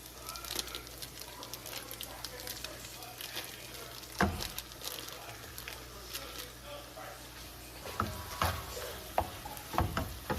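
Ground beef browns in a hot pan for shepherd's pie, giving a steady crackling sizzle with occasional sharp scrapes and stirring knocks close by, and voices faintly underneath.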